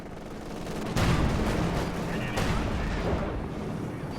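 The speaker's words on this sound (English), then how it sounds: "Here comes another incendiary artillery barrage, this time on the Zis gun." Incendiary artillery barrage and gunfire in the World War II strategy game Company of Heroes 2, loud sustained rumbling blasts with two sharp impacts, dense and continuous.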